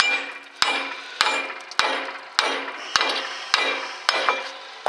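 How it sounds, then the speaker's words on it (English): Sharp metallic blows from a big hammer striking a rusted spindle while replacing a Ford lower ball joint ring out at an even pace, about eight strikes, each followed by a brief fading ring. "I've got a big hammer, and hit it like this."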